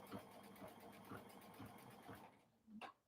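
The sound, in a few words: sewing machine stitching fabric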